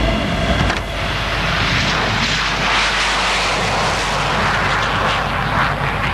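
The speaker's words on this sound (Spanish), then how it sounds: "El Ouragan despegó a su primer vuelo histórico." A Dassault Ouragan jet fighter takes off on its first flight with a loud, sustained, roaring engine rush that swells broadly and stays steady throughout.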